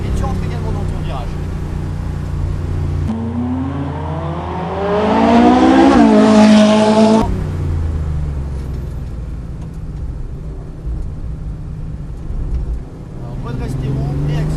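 Car on a driving-school outing accelerating, then braking into a turn, engine rising in pitch and fading as it slows, heard from inside under a voice giving instructions.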